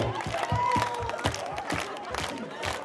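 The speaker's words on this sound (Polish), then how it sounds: "I znowu klaszczemy, uwaga!" An audience at an outdoor town festival concert in Poland claps in rhythmic unison, sharp regular beats under loud music and cheering voices, lively and close.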